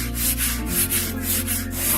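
Steady close rubbing and scraping of sandpaper over a dried wall patch being smoothed for a DIY repair, a continuous abrasive swish with faint rhythmic strokes and no talk.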